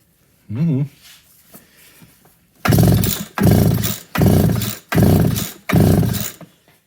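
A McCulloch Timber Bear chainsaw engine repeatedly tries to run, giving five loud, rough bursts of revving with short gaps between them, close by. A short pull or sputter comes before them.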